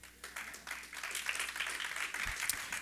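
A church congregation claps briefly during a sermon, a soft, steady patter of many hands heard from a distance for a few seconds.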